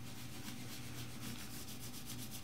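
Calf dye rubbed by hand into the leather back of a wallet, a steady close soft scrubbing and swishing that runs continuously without pause.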